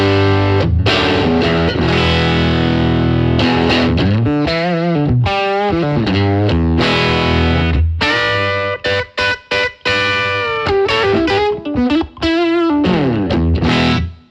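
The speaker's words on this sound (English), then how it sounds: "let's compare that sort of tone to a cranked black panel deluxe reverb" Distorted electric guitar at high volume through a cranked black panel Fender Deluxe Reverb amp, thick overdriven chords and riffs with brief pauses between phrases, played alone.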